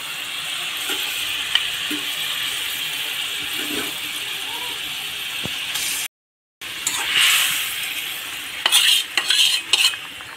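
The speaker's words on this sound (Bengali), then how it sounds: "এখন আমি ভেজে রাখা মাছ কয়টা দিয়ে দেব।" Water and fried katla fish pieces go into a sizzling masala curry with potato and tomato. A steady close hiss drops out briefly, then comes back louder with scattered clinks and bubbling.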